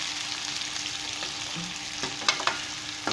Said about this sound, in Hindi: भून लेना आलूओं को।